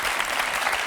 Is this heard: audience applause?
yes